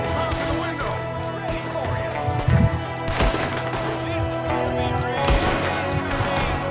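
Red Dead Redemption 2 gameplay from chapter 1 with repeated gunshots cracking over a dense game soundtrack and ambience, several sharp bursts spread through the stretch.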